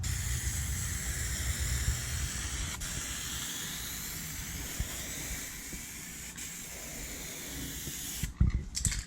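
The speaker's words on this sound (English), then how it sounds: "And now we're going to be applying some of the weld-through primer." Weld-through primer sprays from an aerosol can onto car body metal, giving a faint, continuous hiss with a couple of brief clicks and a short rattle at the end.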